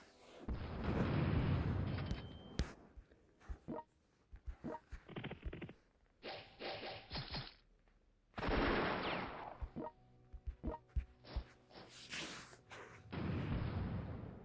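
Heavy artillery fire bombards a city in the strategy game European War 4, a France 1806 conquest campaign, with repeated loud booms and crackling bursts of gunfire in irregular clusters, several sustained barrages broken by short quieter gaps.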